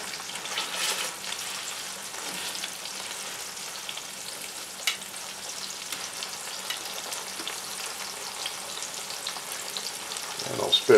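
Potatoes fry and get scrubbed around the bottom of a cast iron pan, making a continuous close sizzle with faint scraping and a louder clatter at the very end, without speech.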